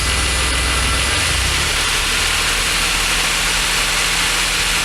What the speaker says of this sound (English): I'm going to go ahead and apply some throttle, see where pressure's at.